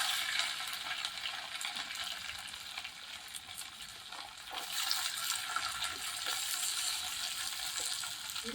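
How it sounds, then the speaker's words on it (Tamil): Onions frying and being tempered in a hot pan for a country chicken curry, a steady close sizzle with soft stirring throughout and no voices. "இப்போ வெங்காயத்தை போட்டு நல்லா தாளிச்சிடலாம்."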